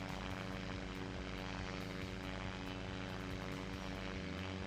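A virtual propeller airplane in SimplePlanes VR drones with its engine throttled back, a low, steady, fairly faint hum with a fluttering prop beat and no talk over it.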